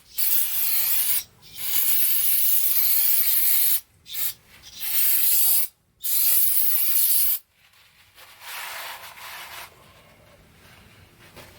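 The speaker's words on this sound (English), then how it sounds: "I'm just going to spray a little bit on this on here" Aerosol cleaner sprayed in several hissing bursts onto the rear parking brake shoe parts of a 1999 Ford Expedition, close and loud, followed by quieter rubbing and handling noise.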